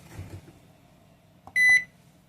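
V88 microwave oven under repair test, giving a faint low hum, two soft clicks, then a single loud, clear beep tone close by; no talking.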